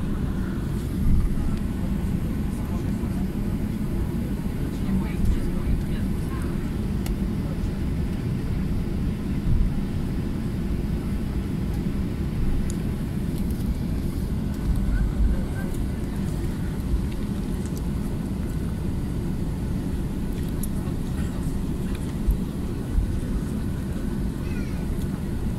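A passenger aircraft on its takeoff roll on a flight to Greece gives a low rumbling roar that runs steadily from the cabin the whole time, with faint clinks and light talk underneath.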